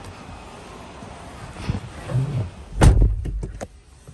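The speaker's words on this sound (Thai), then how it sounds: "เดี๋ยวเราเข้าไปสตาร์ทรถกันให้ดูนะ" Someone gets into a 2020 Isuzu MU-X 3.0: rustling and thumps of climbing in, then a solid door slam followed by a few interior clunks, close and fairly loud, with no clear engine start.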